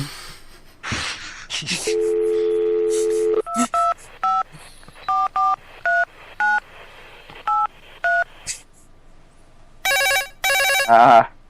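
A telephone is dialed with a quick series of electronic keypad beeps in short even bursts, followed by a loud trilling ring near the end. The sounds are close and clear, with no speech.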